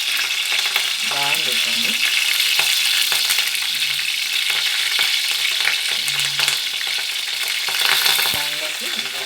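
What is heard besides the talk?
fresh curry leaves sizzling in hot oil for eggplant curry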